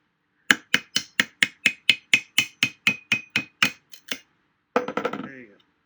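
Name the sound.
hammer tapping screwdriver to pry subwoofer part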